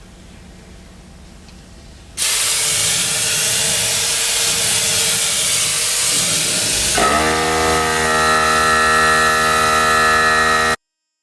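A paint sprayer sprays paint onto a dresser with a loud, steady hissing rush that runs for nearly nine seconds. Partway through, the pitch changes to a harsher, buzzing whine, then it cuts off sharply to silence.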